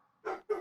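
A medium-size dog gives two short, loud barks close by, in quick succession with a brief gap between them.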